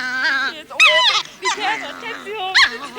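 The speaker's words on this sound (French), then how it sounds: "Il paraît que ce petit chien voudrait mordre mon nez." Small dog in a TV studio yapping and whimpering in quick, high-pitched bursts, loud and close, with short gaps between barks and people talking around it.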